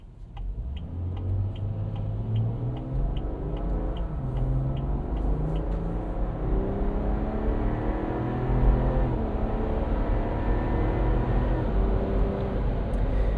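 A BMW B58 straight-six in a 2026 Ineos Grenadier off-roader, tuned to sound like a BMW M340i, gives a loud, full engine drone that rises and falls steadily through revs with no talk.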